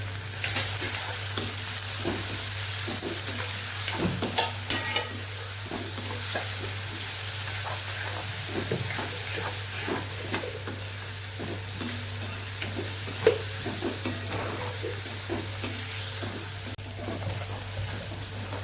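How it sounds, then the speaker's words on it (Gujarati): Onions and tomatoes sauté with spices in a pan for vegetable khichdi, a continuous sizzle with frequent scraping and stirring strokes and occasional louder knocks, close and steady. "મસાલા કરીએ છીએ બધું સાતળે છે ડુંગળીને ટમેટા"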